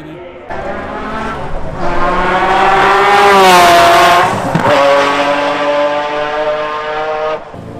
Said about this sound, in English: We got the F1 cars going around the track.